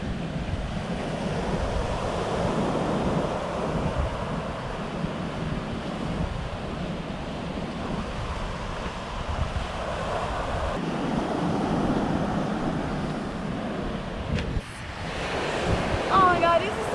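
Ocean waves break on a beach in St. Mary, Jamaica, as a steady, close surf wash mixed with gusty wind rumble on the microphone, with a brief louder swell near the end.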